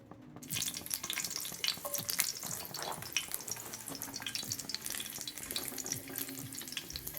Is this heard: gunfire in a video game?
no